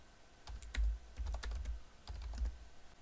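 Keys tapped on a computer keyboard while entering spreadsheet dates, in two short bursts of quick, quiet clicks separated by a brief pause, close and alone in a calm room.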